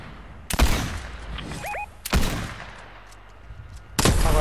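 Gunfire in the video game Fortnite: three sharp, loud shots spaced about one and a half seconds apart, each followed by a short decaying tail, with a faint rising electronic chirp between the first two.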